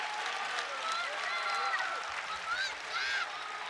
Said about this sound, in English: Crowd firmly behind the Hardys here.